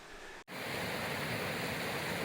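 A waterfall in the Wyre Forest roars as a steady, broad rush of water, loud and close. It fills the clip after a brief cut near the start.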